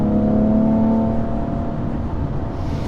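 A Porsche 911 GT3 engine revs hard at high RPM, its strong tone sliding down as the gear shifts, then settling into a lower, steady drone.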